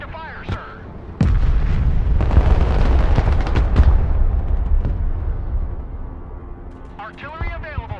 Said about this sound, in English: Artillery ready to fire, sir.